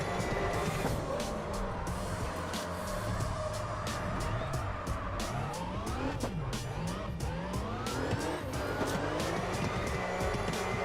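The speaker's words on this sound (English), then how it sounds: "it's almost like the car is drifting itself" A car in the CarX Drift Racing Online 2 video game drifts under a loud continuous engine roar with sweeping pitch as it revs, with tyre skid noise running throughout.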